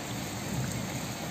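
Steady rain falls outdoors, a dense even hiss of drops with a low rumble underneath, continuous and moderately quiet.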